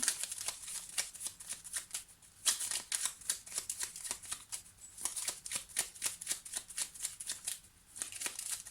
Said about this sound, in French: je vais recouvrir cette carte des nuages, là